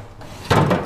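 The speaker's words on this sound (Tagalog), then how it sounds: "Tatanggalin yung drawer." Wooden drawer pulled out of an old wooden cabinet, a short scraping slide after a moment of quiet room tone.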